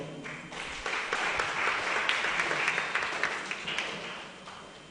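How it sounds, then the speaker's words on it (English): Audience at a literary night poetry contest applauds to welcome a poet to the podium, a dense, steady wash of clapping that swells and holds for several seconds before tapering. "Let us welcome him. Round of applause."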